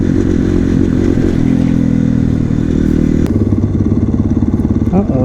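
KTM supermoto motorcycle engine running loud and close during a wheelie, a continuous throaty drone that shifts pitch partway through into a choppier, pulsing rev, with wind and clatter mixed in.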